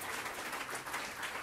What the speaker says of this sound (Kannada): ಇಬ್ಬರಿಗೂ ಒಂದು ದೊಡ್ಡ ಚಪ್ಪಾಳೆ ತಟ್ಟಿ.